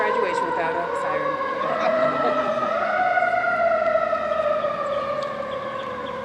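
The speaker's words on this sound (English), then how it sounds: "It's not an Exploris graduation without a siren." A loud siren wails steadily at an 8th grade graduation ceremony, its rising and falling tone sustained throughout while a crowd murmurs underneath.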